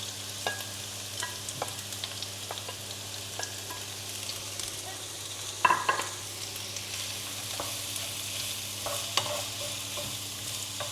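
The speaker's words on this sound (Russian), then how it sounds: "Добавляем сюда лук. И поджариваем до мягкости и прозрачности лука." Onion frying in a pan until soft and translucent, a steady close sizzle with occasional stirring clicks and one louder scrape, no voices.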